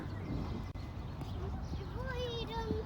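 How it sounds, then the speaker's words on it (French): Horses clip-clopping at an outdoor spot with a playground slide, faint hoof steps under a busy background of children and adults talking, with a bird chirping near the end. "Mais il y a les chevaux qui sont là."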